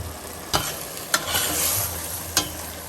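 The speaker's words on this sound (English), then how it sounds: "you want to just keep turning it every now and then so it all gets cooked" Pasta sauce ingredients frying on high heat in a pan, a steady hiss of sizzling broken by three sharp clacks of a utensil turning the mixture.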